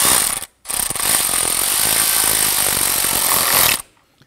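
A ratchet tightening a 10 mm bolt on an ignition coil of a 2005-2011 Nissan Frontier 4.0L V6. The clicking is loud, close and rapid, with one short pause early on and a steady run for about three seconds, and no voice.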